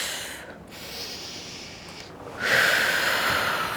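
A long, breathy exhale during a curl-up in a reformer Pilates class, close and steady, rising to a stronger rush of breath partway through.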